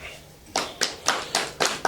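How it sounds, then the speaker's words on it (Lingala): Applause from a small audience at a live televised political talk show: five or six distinct loud claps in a slow rhythm, close by. "Est-ce qu'on peut l'applaudir s'il vous plaît?"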